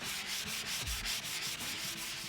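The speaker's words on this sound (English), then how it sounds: "as putting some time in with that block, removing all those blemishes that you may see" A sponge sanding block rubs along the thin veneer edges of a shelf, giving a steady scratchy back-and-forth rasp of repeated strokes, close and alone.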